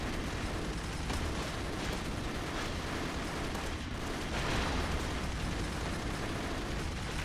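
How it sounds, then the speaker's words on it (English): Explosions in the side-scrolling action game Broforce rumble and crackle in a dense, continuous barrage, loud and busy throughout with no gaps and no talk over them. "watch out. Explosions."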